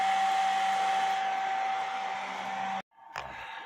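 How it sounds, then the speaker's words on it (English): Hair dryer set on low blowing into a perforated ice cream bucket of cuckoo clock parts, a steady close whirring hum that cuts off abruptly near the end, leaving a brief quieter rustle. "Now they're in my ice cream bucket that has holes all around it with the hairdryer on low."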